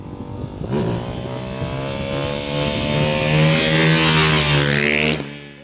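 A Ducati Hypermotard 698 Mono single-cylinder engine fitted with a race pipe revs hard and close, climbing to a loud sustained high-rpm howl before cutting off abruptly, with no voices.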